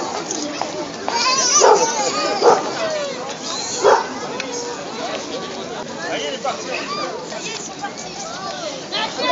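A frightened dog in a crowd at a medieval festival: short yips and whimpering barks rise a few times over constant chatter, with children's voices and adults talking nearby.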